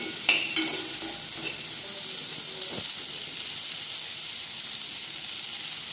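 Okra sabzi fries in a pan with a soft, steady sizzle and hiss, while a few brief clinks and scrapes of stirring come near the start.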